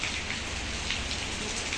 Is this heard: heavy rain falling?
yes